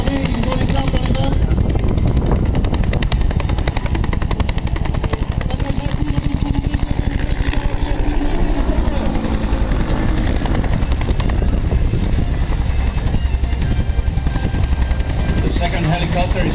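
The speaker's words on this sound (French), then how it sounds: "Le premier hélico vient devant nous, les commandos vont commencer à descendre." Military helicopter coming in for a commando landing at the NATO Tiger Meet in Cambrai: loud, close rotor chop and turbine roar that holds steady throughout, with a voice talking over it.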